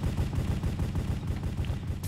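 Rapid gunfire in the Minecraft Hypixel Cops and Crimes game, including an MP5, crackling in dense continuous bursts for about two seconds with no talk.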